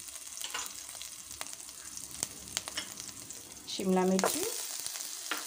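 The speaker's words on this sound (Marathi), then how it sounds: "गाजर, पत्ताकोबी ह्या सर्व भाज्या आपण छान फ्राय करून घेऊया" Carrots, cabbage and other vegetables for a veg momos filling frying in a pan, a continuous close sizzle with scattered crackles and stirring clatter, while a person talks over it.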